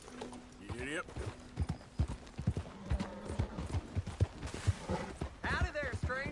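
Horse hooves clip-clopping in Red Dead Redemption 2, a rhythmic series of hoof strikes heard close up beneath game character dialogue and voices, with a brief whinny-like sound among them.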